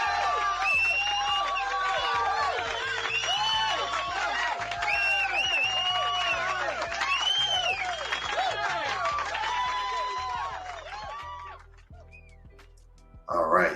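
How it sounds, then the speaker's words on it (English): Audience at a lecture gathering bursts into sustained applause with clapping, whoops and cheers that carry on loudly for about eleven seconds before fading out. "let's give him another round of applause for that."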